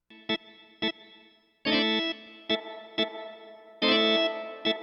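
Short cheap-synthesizer stabs and longer held chords play in a choppy rhythm, bright and buzzy, run through spring reverb and parametric EQ, with a metallic, springy echo trailing each note.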